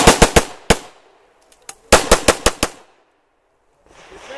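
Rapid pistol gunfire on a USPSA Limited Division shooting stage: a fast burst of four sharp shots, a lone shot, a short pause, then another quick string of five loud cracks, ringing briefly in the open air.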